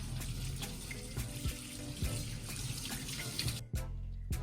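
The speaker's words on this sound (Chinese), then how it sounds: "首先准备2块鸡腿肉，用清水洗一下" Tap water runs steadily into a sink as two chicken thighs are rinsed, a continuous close splashing rush with occasional knocks and brief shifts in the flow, and no voices.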